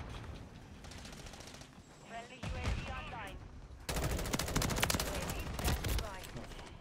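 Full-auto M16 rifle fire in a first-person shooter, rapid bursts of close, sharp gunshots that grow denser and louder toward the end, with other game noise between.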